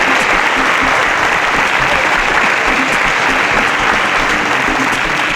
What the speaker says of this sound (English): Another round of applause for all 5 contestants in the advanced round.